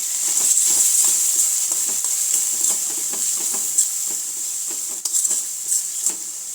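Spices tempering in hot oil for Gujarati dal, a steady bright sizzle with scattered crackles and pops, close and fairly loud, continuing alone without voices.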